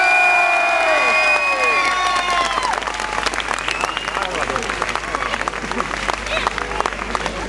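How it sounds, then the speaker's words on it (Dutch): A crowd applauds and cheers at an outdoor cyclocross podium ceremony in Niel, Belgium, with whoops and shouts mixed into steady clapping. A loud announcer's tone fades out in the opening seconds. "Uw applaus voor Belgisch kampioen Niels Albert!"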